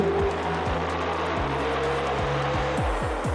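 Loud Kawasaki Ninja 250 motorcycle engine roar booming and reverberating in a tunnel, with repeated gear shifts as revs climb and drop; steady, close, continuous.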